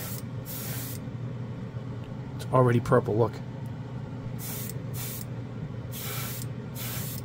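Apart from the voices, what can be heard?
Tamiya black spray paint can spraying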